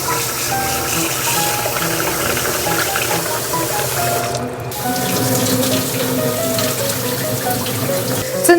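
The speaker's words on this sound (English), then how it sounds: "The first step of making makgeolli is washing rice." Rice is washed under running tap water for Korean makgeolli. A continuous splashing gush plays close up and alone, with a brief dip near the middle.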